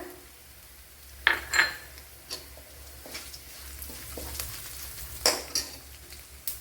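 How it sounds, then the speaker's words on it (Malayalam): Crushed mustard seeds go into a pan of frying lemon pickle base and get stirred, giving a steady low sizzle with a few sharp spoon scrapes and clinks against the pan. No one speaks. "ഇനി ഇതിലേക്ക് ഒരു ഒന്നര ടേബിൾ സ്പൂൺ കടുക് ചതച്ചത് ഇട്ട് കൊടുക്കാം"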